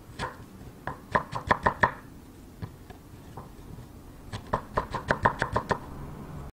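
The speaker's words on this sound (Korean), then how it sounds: "그리고 또 일정하게 채를 썰어줍니다" A knife julienning pear slices on a cutting board, heard as two quick runs of sharp, evenly spaced chopping taps separated by a few scattered single knocks, close and fairly quiet, with no speech.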